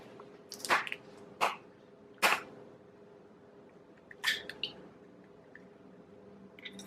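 Eggs cracked against a messy brownie pan and dropped into the batter give a few short, sharp taps and wet squishes, spaced about a second apart, close by in a quiet kitchen.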